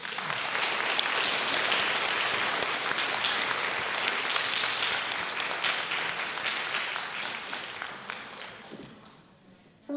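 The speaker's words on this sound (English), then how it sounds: "let's have a round of applause for our community leaders who have helped us" Sustained audience applause at a Kwanzaa community celebration honoring local leaders: a full, even roar of many hands clapping that holds strongly for several seconds, then thins and fades toward the end.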